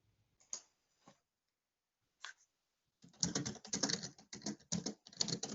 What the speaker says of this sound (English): Oh, I hear you typing.